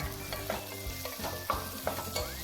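Whole shallots fry in oil for a Kerala beef roast, giving a quiet, brief sizzle with soft rhythmic stirring taps over a low, steady hum.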